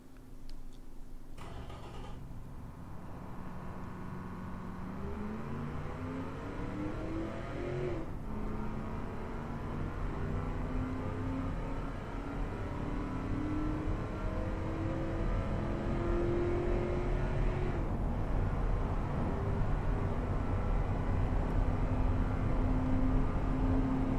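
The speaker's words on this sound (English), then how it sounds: "Let's watch this car accelerate." A car in the Automation racing and car-design game accelerates hard through the gears, its simulated engine rising in pitch, briefly dropping at each upshift, then climbing again into a loud, sustained drone.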